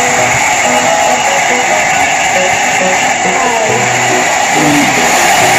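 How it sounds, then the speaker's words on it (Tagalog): A hair blow dryer runs throughout a backjob hair rebonding treatment, giving a loud, steady whooshing roar with a constant motor hum and no breaks. "Mag-blower na po tayo."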